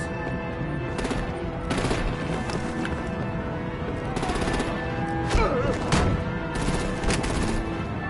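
Gunfire in a Batman: The Enemy Within game scene, with bursts of rapid shots and heavy impacts over a busy action soundscape, loud and close with brief voices mixed in.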